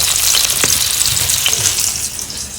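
Batter-coated river fish hits a hot tawa and fries with a loud, dense, close sizzle that holds steady for a couple of seconds before easing slightly.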